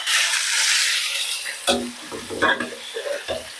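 Chicken pieces dropped into a hot pan with garlic and ginger for chicken nihari, starting as a loud continuous sizzle, then turning into quieter crackling with a few stirring scrapes and clinks.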